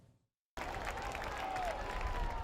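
A crowd applauds steadily as Pope Francis arrives at Turin cathedral, dense continuous clapping that starts abruptly after a brief quiet moment and holds at an even level.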